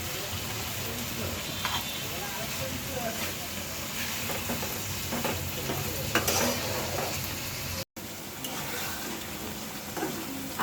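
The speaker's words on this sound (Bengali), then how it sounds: "এখন আমি এই যে ভেজে রাখা মাছ আর 2-3টা কাঁচামরিচ দিয়েছি।" Hilsa fish pieces with onion masala and two or three green chillies sizzle steadily in a pan while being stirred, a dense continuous frying hiss with occasional scraping, close and fairly loud, with a brief dropout near the end.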